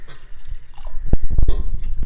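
Water is poured into pressure-cooked lentils for spinach dal: a close, splashing pour in a few short bursts over low kitchen background.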